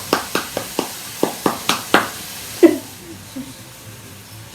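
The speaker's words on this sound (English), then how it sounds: "Give him a round of applause" Roughly nine or ten slow, loud claps from a single person or small group, evenly spaced and close by, then a short sound and quiet room noise.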